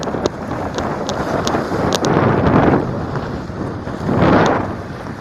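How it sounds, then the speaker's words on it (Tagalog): Steady wind gusting across the microphone outdoors by the water at a little baywalk in Calamba, swelling louder twice, with faint background noise and no talking. "Sarap ng hangin dito, grabe."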